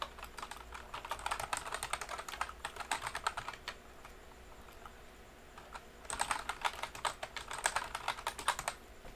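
Keys clatter on a computer keyboard as an email address is entered into a sign-up form, two bursts of quick, close typing separated by a short quiet pause.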